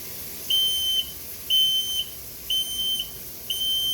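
A smoke alarm runs through its test cycle, sounding four evenly spaced, loud, piercing high beeps of about half a second each, with short gaps between them and no voices.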